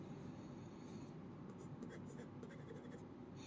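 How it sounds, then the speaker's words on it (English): A Jinhao Heritage series 9056 fountain pen with very wet ink writes across paper in a steady, faint scratching stroke that runs continuously under a low background hum. "I'm writing some random thing."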